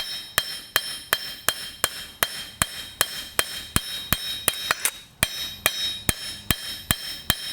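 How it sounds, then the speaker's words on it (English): Light blacksmith hammer taps on a hand-forged steel tray for an 18th–19th century style toaster, a steady rhythm of about twenty sharp metallic strikes, close and ringing, with a brief faster cluster midway. "I'm just using slight taps and light hammer strikes"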